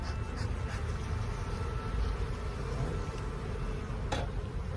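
Honey bees swarm around an opened hive, giving a steady, close buzzing drone that runs throughout with a few faint clicks.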